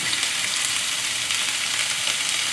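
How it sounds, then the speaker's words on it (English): Loud, steady sizzle of an egg cooking in a hot pan alongside chicken for moo shu chicken, a dense unbroken hiss heard close up with no voices. "And then we can crack an egg right in here."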